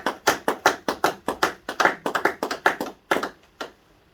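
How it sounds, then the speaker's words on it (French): A church congregation at a Sunday worship service claps in loud, steady rhythmic strokes, about a dozen sharp claps in quick succession before the clapping thins out and fades. "Nous acclamons très fort pour la gloire du Seigneur."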